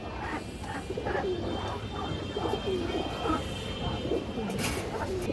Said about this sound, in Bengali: চোখটা দেখেন, রিং চোখের কবুতর